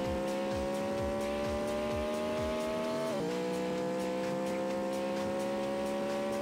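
A car in Traffic Racer holds a steady high-pitched engine whine at top speed, dipping briefly as it shifts and then climbing again, loud and continuous, with faint rhythmic thumps underneath.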